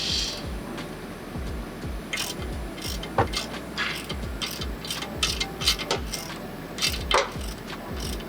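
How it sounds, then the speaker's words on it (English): A wrench loosens a 19 mm nut on the ball joint of a 2009-2012 Lexus LS460 AWD front suspension, with repeated ratcheting clicks and metallic ticks in a steady rhythm up close, some sharper knocks mixed in. "I'm going to take this nut off with a 19 millimeter"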